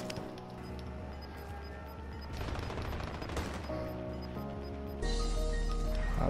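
Gunfire in a battle royale video game, with broadband shot bursts layered over a constant low game hum and music-like tones, rising louder toward the end.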